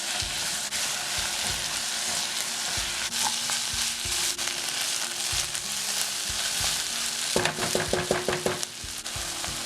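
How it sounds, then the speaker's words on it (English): Chopped tomato sautés in a hot pan with sliced capsicum, giving a steady close sizzle and frying hiss broken by rhythmic stirring scrapes, busiest near the end. "1 chopped tomato, it's totally optional. Sauté 2 to 3 minutes."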